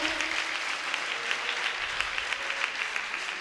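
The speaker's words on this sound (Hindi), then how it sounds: "सब ताली बजा के स्वागत करें" Temple devotees clap in welcome, a steady, dense burst of applause from a crowd filling the space throughout, fairly loud with no talk over it.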